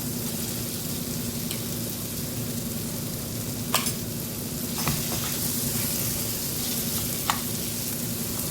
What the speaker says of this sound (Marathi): मसाले छान तेलामध्ये आपल्याला भाजून घ्यायचे आहेत।